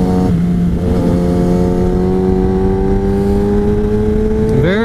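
Kawasaki ZX10R sport bike engine droning loud and close at steady revs with a jerky throttle, a strong harmonic buzz holding nearly level before a sharp rev rise at the end.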